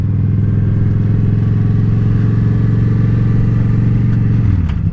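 A motorcycle engine idles close and steady with a low, even throb as the clutch is released, then the tone shifts briefly near the end, with no voices.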